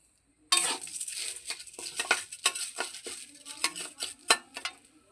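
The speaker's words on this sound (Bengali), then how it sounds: "এবার আমি চালটা ভেজে নেব" Rice being fried in a hot kadai: after a short silence, a run of irregular, close scraping and rattling stirs of a spatula against the pan, with grains pattering.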